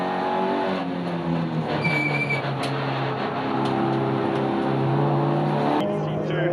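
Racing cars, including a Toyota, a Mini and a Kalex Racing VW, lap Scribante circuit in a GTC Series round, their engines a steady, continuous drone with held harmonic tones and a brief shift near the end, under voices.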